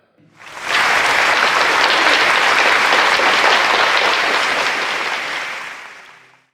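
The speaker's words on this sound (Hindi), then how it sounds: "इन तालियों से स्वागत किया जा रहा था उस असाधारण तेजस्वी युवक का" Audience at the World's Parliament of Religions in America applauding to welcome Swami Vivekananda's speech: a dense, loud wall of clapping that swells in quickly, holds steady for several seconds, then tapers off.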